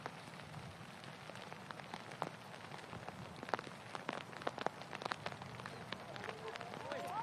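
Steady rain falling on a golf course at the Ford Championship, a soft continuous patter with scattered sharp drips, faint and close, while voices talk in the background.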